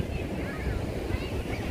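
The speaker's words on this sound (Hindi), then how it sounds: "तो अभी पानी का लेवल बढ़ चुका है और बहुत ऊपर पानी आ रहा है।" Sea waves wash up onto a beach, a steady low roar of surf with wind buffeting the microphone throughout, with no clear breaks.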